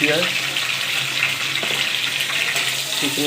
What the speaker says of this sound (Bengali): তেল গরম হয়ে গেলে তেলের মধ্যে পেঁয়াজ, কুচনো